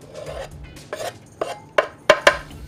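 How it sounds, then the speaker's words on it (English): A spice rub for BBQ ribs of curry, mustard, coriander, cumin, paprika, onion and garlic being mixed in a bowl, with a soft scraping start and then several sharp, close clinks of utensil against bowl. "Mix it real quick."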